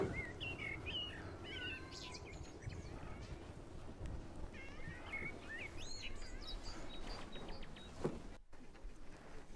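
Several birds sing and chirp in an outdoor hutong courtyard in Beijing, bright warbling phrases repeating at moderate distance over a steady background hum of the open lane, with a few faint distant sounds underneath.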